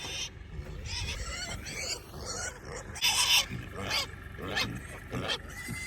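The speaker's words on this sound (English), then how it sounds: "You let those goats run you off your food?" Goats screaming close by, a string of loud, ragged cries that overlap and repeat in uneven bursts against a noisy outdoor background.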